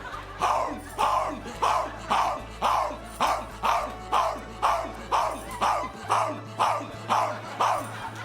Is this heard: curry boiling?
no